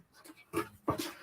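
A dog gives a few short, soft whimpers and snuffling noises close by, two brief louder bursts standing out from quiet background.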